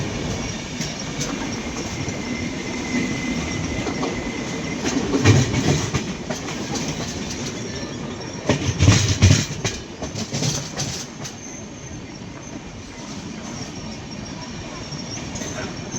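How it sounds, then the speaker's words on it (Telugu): An MGR Chennai superfast express train rumbles steadily along the rails approaching Erraguntla Junction, with rhythmic clacking and occasional louder bursts of wheel noise, continuous and close throughout. "ఈ ట్రైన్ ఇప్పుడు ఎర్రగుట్ల జంక్షన్లోకి వెళ్తుంది"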